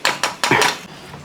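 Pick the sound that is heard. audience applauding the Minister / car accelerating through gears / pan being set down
pan being set down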